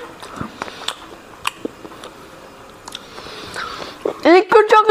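Sharp, crunchy bites into a Wafer Story Choco Flo chocolate cream wafer cone, a few brief crackles scattered between close-up talk, with louder chewing bursts near the end.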